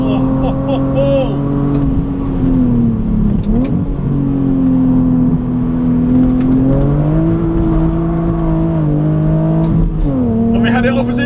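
A BMW Z4 on a race track accelerates hard, its engine drone loud and steady with rising pitch, brief lifts and shifts around the middle and near the end, while voices talk over it.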